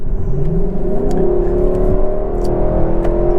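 A Lexus LC500 V8 revving on a freeway, a deep engine note climbing steadily in pitch under strong road and wind roar, heard loud from inside the cabin.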